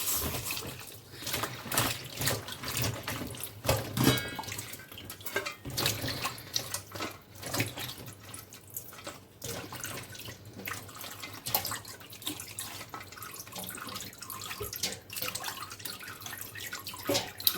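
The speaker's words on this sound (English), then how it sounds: "The okra has been sitting in the water for the past 10 minutes. So I will want to wash it like 2 to 3 times" Okra being washed by hand under a running tap, a continuous splashing flow of water with irregular sloshes and drips, close and fairly loud throughout with no talking.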